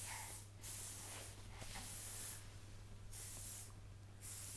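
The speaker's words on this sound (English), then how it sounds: "You hear Mummy spraying herself?" An aerosol spray hisses in several short bursts separated by pauses, fairly quiet and close, as someone sprays herself indoors.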